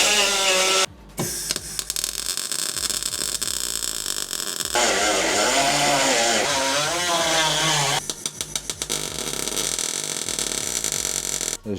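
A power grinder works on the steel roll cage of a C1 endurance race car, a loud continuous whine with shifting pitch, brief cut-offs and restarts, and bursts of rattling contact against the tubing.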